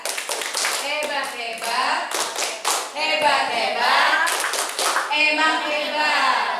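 Teachers at a school training session perform a rhythmic clap-and-chant cheer: sharp bursts of clapping in a set pattern, answered by the group chanting together, loud and close.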